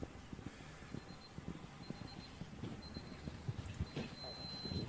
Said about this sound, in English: You can hear these riders' watches beeping, just letting them know when they're at certain minute markers.